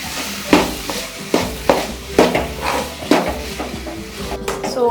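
A spoon scrapes and knocks against a pan in a steady rhythm as potatoes are stirred into a tempering, with a faint sizzle underneath.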